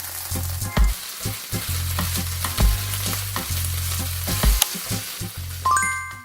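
Carrots and green beans stir-fry in a pan for cauliflower rice, a steady close sizzle broken by repeated spatula scrapes and knocks, with a few thin tones near the end.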